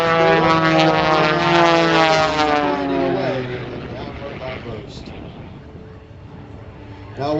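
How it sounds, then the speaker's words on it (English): Piston engines of aerobatic airplanes with Lycoming engines roar loudly at an air show, the tone rising then sliding down as the aircraft climb and pass, fading farther off, with a narrator talking throughout. "now the powerful Lycoming engines are twisting these"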